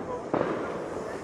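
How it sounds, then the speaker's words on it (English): Fireworks go off on New Year's Eve in Jacksonville, a single sharp burst cracking out over steady outdoor crowd noise and faint voices. "Come on! Shoot fireworks!"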